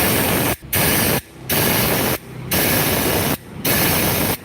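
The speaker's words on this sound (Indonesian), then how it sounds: "Ini saya semprot lubang knalpotnya" An aerosol spray is blasted into a motorcycle's exhaust hole while it is checked for leaks, in four long, loud, hissing bursts separated by short gaps.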